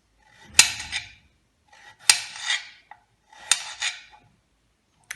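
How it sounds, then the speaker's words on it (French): Knife cutting potatoes into rounds in a home kitchen, with three separate bursts of crisp chopping and scraping on a board, each a quick cluster of cuts followed by a pause, close and clear, no talking. "Je vais couper les patates en rondelles pour les mettre dans mon plat"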